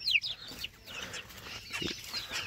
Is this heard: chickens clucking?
yes